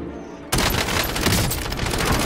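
Dense, loud bursts of video game gunfire start abruptly and keep going as a sustained rapid volley with no pauses.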